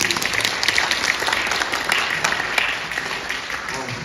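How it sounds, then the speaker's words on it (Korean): Audience at a Korean community concert applauding a band, a steady rattling patter of many hands clapping at moderate distance, continuous for about four seconds. "박수 한번 부탁드립니다"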